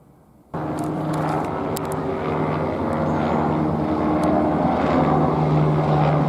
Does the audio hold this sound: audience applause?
no